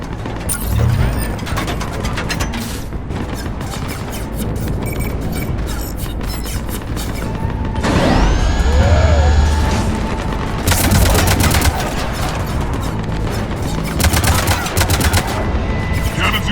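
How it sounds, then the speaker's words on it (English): Heavy cannons in a sci-fi video game, clanking mechanical arming sounds followed by rapid bursts of loud gunfire and booming shots, dense and continuous with ratcheting metallic noise throughout. "Cannons still need to be manually armed."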